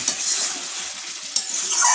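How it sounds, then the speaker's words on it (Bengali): A spoon stirs chicken curry frying in a pan, giving a loud close sizzle with soft scraping strokes and a sharp clink of utensil against the pan partway through. "আমি আবার একটু নেড়ে দেবো।"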